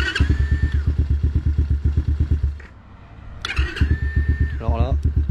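A brand-new off-road motorbike engine fires for the first time, its loud, rapid single-cylinder pulses dipping briefly before picking up again, with a high whine and clatter over the throbbing; a voice talks over it.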